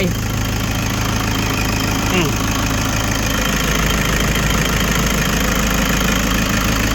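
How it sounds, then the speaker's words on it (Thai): A 2011 Toyota Commuter van's 2.5-litre diesel engine idles steadily and loudly, an even, unbroken rumble that runs alone throughout. "เครื่องนิ่งๆเนียนๆเนี่ยสตาร์ทไปสักพักนึงแล้วนะ"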